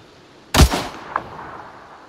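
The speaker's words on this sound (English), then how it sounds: "Taking the sniper shots." A single loud sniper rifle shot in Arma 3, a sharp crack with a booming tail that rolls away, followed by a faint distant echo, otherwise quiet.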